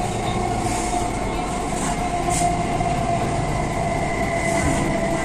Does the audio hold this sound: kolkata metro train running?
yes